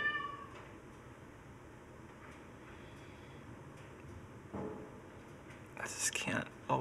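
A yelling cat meows and caterwauls beside someone debugging a camera robot, loud drawn-out cries at the start and again near the end over a quiet room with faint whispering.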